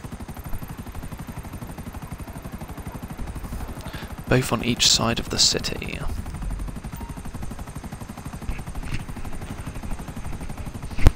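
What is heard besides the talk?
helicopter in a video game (GTA heist)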